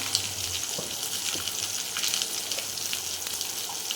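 Cumin powder, chilli powder and mixed vegetable spices frying in a pan, a steady soft sizzle with light bubbling crackle throughout, close and moderately quiet, no talking.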